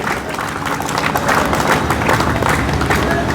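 Steady applause from a crowd, loud and continuous clapping filling the space.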